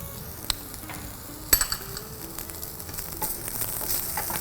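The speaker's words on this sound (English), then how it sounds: "I'm going to actually pan fry my salmon" Salmon pan frying in a home kitchen gives a steady close sizzle, with a sharp utensil clack near the start and a few lighter scrapes as it cooks.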